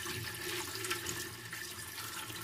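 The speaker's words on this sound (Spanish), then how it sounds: "Pues le voy a colocar agua" Water pours steadily into a large tamale steamer pot, a continuous hollow splashing rush at moderate volume, alone with no speech.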